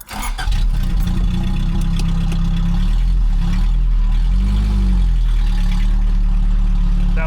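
A 1984 Toyota AE86 Corolla coupe's engine cranks and catches right away, then settles into a steady, loud, close-up idle with a deep rumble and slight wavering in pitch.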